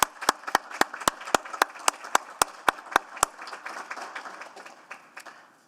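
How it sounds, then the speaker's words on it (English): At a city council meeting, a single person claps steadily about a dozen times, then a scattered round of applause from a small group follows and fades out. "join me in a bit of a round of applause for this initiative."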